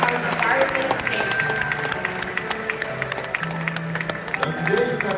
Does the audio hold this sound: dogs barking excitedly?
no